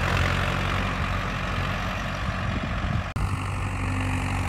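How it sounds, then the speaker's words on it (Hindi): A Mahindra Arjun 555 DI Power Plus 57 HP tractor fitted with a laser leveler idles with a loud, steady low rumble, a brief dropout near the end, then the same even drone with no talk. "Mahindra harvester 555 DI power plus है"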